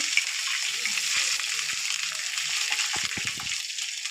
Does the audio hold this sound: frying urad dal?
yes